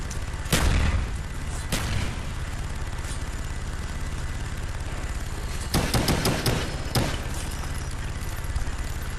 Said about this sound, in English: So right here you got the Gatling gun,